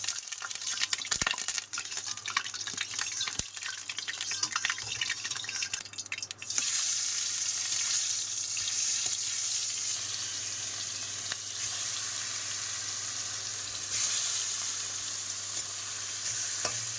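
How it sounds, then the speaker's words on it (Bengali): Oil sizzles in a wok, first broken up by clattering and scraping of utensils, then settling into a loud, even hiss that holds steady. Nobody talks. "তেল দিয়ে দেবো কড়াইতে।"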